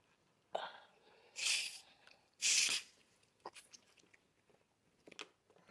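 Two loud, breathy sneeze bursts come a second apart at a meal of banga soup and starch fufu, followed by faint clicks and chewing noises.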